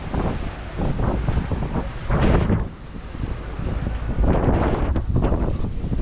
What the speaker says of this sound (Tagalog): Medyo lumakas yung hangin ngayon